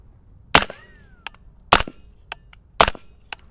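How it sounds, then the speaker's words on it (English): Three suppressed 300 Blackout rifle shots through a SilencerCo Hybrid 46M with 220-grain subsonic rounds on an outdoor range, each a sharp crack about a second apart, with fainter clicks and rattles between them. "SilencerCo 46M on some 300 Blackout, shooting 220 grain arms core subs."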